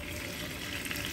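Garlic sauce hits a hot pan and sizzles steadily, a dense, even hiss of frying that stays close and constant for about a second with no talk over it.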